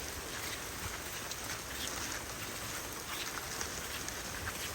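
Heavy rain falls near paddy fields at midday, a dense, even wash of hiss and patter that holds steady and close for the whole stretch, with no clear voices over it.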